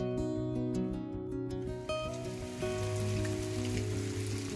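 Heavy rain falls at the Nawaladevi village temple in Pawas, a soft steady hiss that grows after the first two seconds beneath loud, sustained tonal droning and ringing notes.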